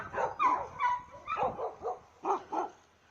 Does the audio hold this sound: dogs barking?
yes